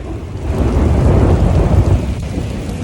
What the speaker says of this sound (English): Bam, starts raining. Right, there was lightning again. That was pretty close by too. Let's see the thunder.